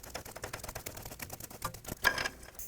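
A ratchet wrench clicks in quick, fairly steady strokes while tightening the ball joint pinch bolts on a 2005-2010 Pontiac G6 front lower control arm; the clicks are faint and close, ending with a slightly louder burst near the end.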